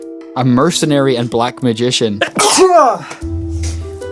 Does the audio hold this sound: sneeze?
yes